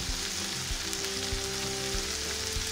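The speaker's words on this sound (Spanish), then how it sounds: "Que se vayan sofriendo ahí." Chopped onion sautéing over high heat in a pot, with chicken broth set aside for a vegetable cream soup, giving a dense, steady sizzle and crackle with faint stirring clatter, close by and without speech.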